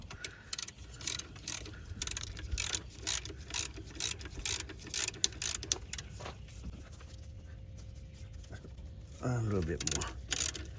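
A ratchet tightens a bolt while the alternator is replaced on a 2014 Toyota Corolla, giving irregular bursts of close mechanical clicking. Someone talks quietly in between.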